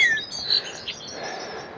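Small birds chirp outdoors beside a bike path scattered with corn in Neuf-Brisach, France: a few sharp, high tweets close by over quiet background air.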